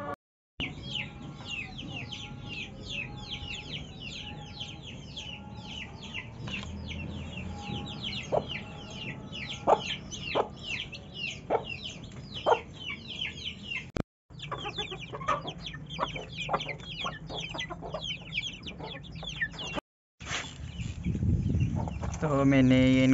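A small backyard flock of young chickens clucks and peeps busily at feeding time, with repeated short chirps and clucks close by. Rustling and handling noises join in, and someone speaks briefly near the end.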